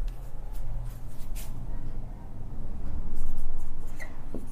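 Pen or chalk scratching steadily while an algebra equation is written out by hand, a continuous close scribble over a low background hum with brief pauses between strokes.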